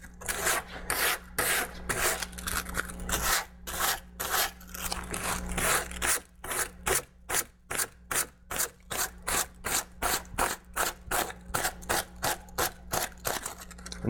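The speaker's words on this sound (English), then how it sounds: "And sand kind of in a downward motion." Rhythmic rasping strokes of 80-grit sandpaper on a fiberglass edge, fast and regular, close and fairly loud with no voices.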